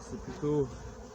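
Honey bees hum and buzz at an opened hive, a low steady drone that swells briefly louder midway through.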